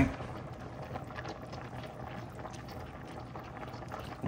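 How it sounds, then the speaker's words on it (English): Pot of food with red beans boiling on a stovetop, a soft steady bubbling and simmering heard close but faint, unbroken for a few seconds. "I'm gonna let this boil up here real good"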